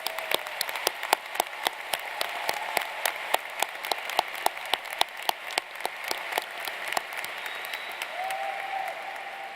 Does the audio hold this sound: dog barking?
no